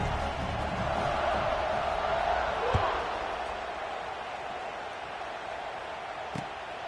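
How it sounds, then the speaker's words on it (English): Steady crowd buzz fills a video game football stadium during a kickoff, a broad continuous roar with a couple of brief sharp thumps and no voices in the foreground. "this crowd is buzzing after that last score"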